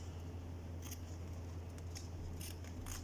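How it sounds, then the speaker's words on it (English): A few quick scissor snips cutting adhesive traction bandage, soft and close, spaced apart over a steady low hum in a quiet room. "with appropriate scissors"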